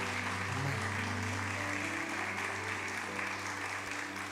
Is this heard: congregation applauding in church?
yes